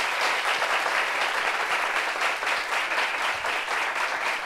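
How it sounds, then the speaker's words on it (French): A studio audience claps in a dense, sustained round of applause for a guest, loud and even with a steady fluttering texture and no voices over it. "Applaudissements pour elle, s'il vous plaît."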